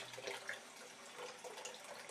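Tap water runs steadily into a sink while a child's hands are rinsed, a soft continuous faucet hiss with no talk.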